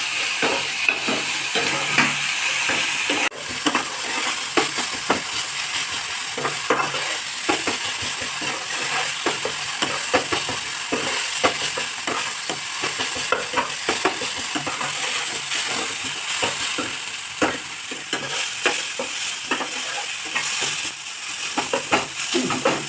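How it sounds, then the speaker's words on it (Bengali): Onion, green chili and tomato sizzle in a pan while cooking paneer bhurji, a continuous close frying hiss with frequent scraping and tapping as the mixture is stirred, no voices. "পেঁয়াজটা বেশ লাল লাল করে ভাজা হয়ে গেছে, এবারে ওর মধ্যে দিয়ে দেবো কাঁচা লঙ্কাটা"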